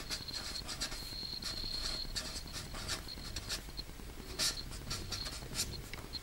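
Chalk or marker writes math on a board, a run of close, scratchy strokes and taps with short squeaky bursts, steady and rhythmic with brief pauses between symbols.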